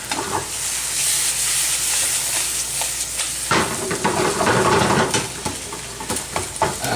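Fresh oregano, about a teaspoon, stirred into a sizzling gnocchi sauce with roasted garlic, cream and pancetta, a steady close hiss with scraping strokes that grow louder and busier partway through.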